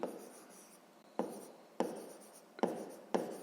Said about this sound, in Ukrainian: Пишемо тоді.